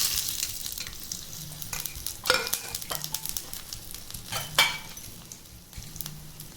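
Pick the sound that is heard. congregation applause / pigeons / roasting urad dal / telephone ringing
roasting urad dal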